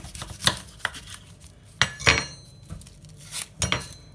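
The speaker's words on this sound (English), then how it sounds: "we get a sharp knife, has to be sharp, and we start to cut" A sharp knife cuts through an onion on a board, giving several crisp taps and knocks spaced unevenly, close and clear with no talking.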